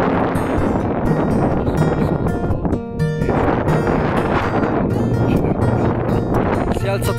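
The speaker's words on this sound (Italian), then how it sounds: "si è alzato il vento, quindi non so quando si senta" Strong wind buffets the microphone on a high mountain trail near the 2698 m summit of Cima 4 Sorelle, a steady loud roar with gusty surges throughout and no talking.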